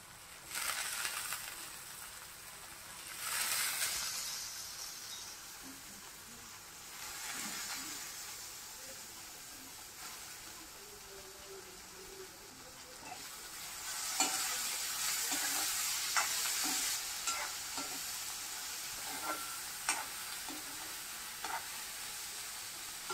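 Lentils (dal) tipped into a hot pan for a dry snake gourd bhaji, giving a steady close sizzle with spoon stirring and scraping, brief louder bursts of frying as the pan is worked, no talking.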